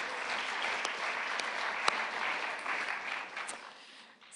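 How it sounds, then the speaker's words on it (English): An audience at an employee forum claps steadily, a dense, even wash of applause that holds for several seconds before tapering at the end. "So let's give ourselves a clap."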